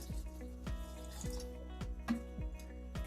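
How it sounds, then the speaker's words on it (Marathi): Cold water runs and drips steadily into a sink or bowl while fresh cow's-milk butter is washed, with small splashes and periodic sharp drops over a continuous trickle. "आता हे लोणी थंड पाणी टाकून धुवून टाकू"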